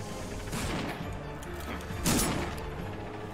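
Rapid gunfire and mechanical clatter in the video game Pumpkin Jack, a dense rattling burst that swells into a louder crack near the end, heard without talk over it.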